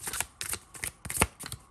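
A deck of angel cards being riffled and shuffled up close, in quick repeated bursts of crisp card flutter, with no voices.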